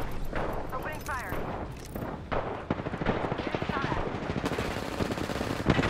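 Rapid automatic gunfire in Apex Legends, dense bursts of close shots rattling almost continuously, with a voice talking over the start of the shooting.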